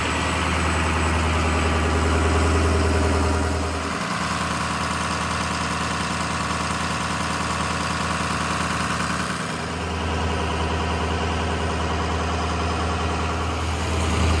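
A Ford dually pickup truck engine runs at high idle with a steady, loud, low drone and a faint knocking rumble, dipping briefly twice in pitch and level, with no talk.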